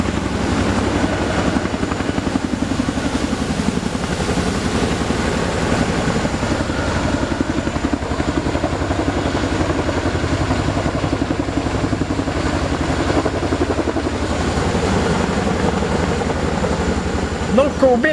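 Steady thrumming rotor drone of a helicopter flying overhead, loud and continuous throughout, with faint voices underneath.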